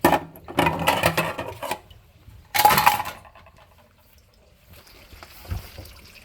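Water runs through a newly fitted all-stainless sink drain under a side-mounted faucet in a kitchen, heard as short gushing, splashing bursts that fade to a faint trickle, close by and without talk.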